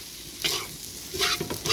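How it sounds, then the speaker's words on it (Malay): Rice vermicelli is stir-fried fast over a high flame at a Pudu Road stall, with a continuous sizzle and loud scraping bursts of the stirring utensil against the pan. "Dengan pantas kena kacau dia."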